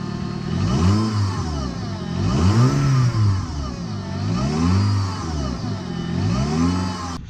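An Audi A2 engine with 164,000 miles revs repeatedly, its pitch rising and falling in several accelerating surges, close and fairly loud.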